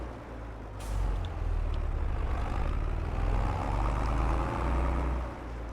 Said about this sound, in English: you can hear the engine working as it accelerates and changes gears.